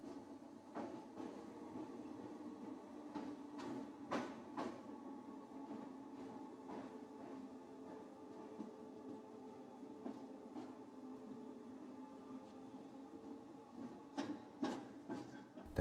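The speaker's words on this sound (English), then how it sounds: "We are entering Liverpool Central Station, platform 1." An underground train on the Liverpool Central route rolls slowly into platform 1 at Liverpool Central Station, a low steady rumble with scattered clicks and clunks from the track, heard alone without speech.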